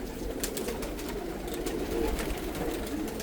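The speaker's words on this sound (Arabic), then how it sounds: "هذه حمامة من الحمام" Homing pigeons at a large breeding loft coo continuously in a soft, dense layer, with many birds close together and a steady hum underneath, and no talking.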